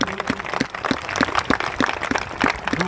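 Applause from an audience at a Hindi poetry recital, a dense patter of many hands clapping at moderate distance, steady and sustained, with no voices over it.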